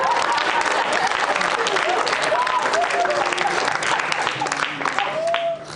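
Audience applause in a Georgian late-night talk show studio, a steady dense wash of clapping throughout, with voices and cheering mixed in.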